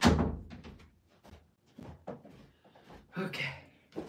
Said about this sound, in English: Ooh, I'm shutting the door.